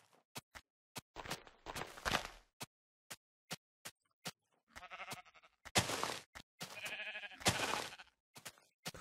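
Minecraft sheep bleating several times in short nasal calls, mixed with sharp rhythmic clicks from hits and footsteps, fairly quiet and with no talking.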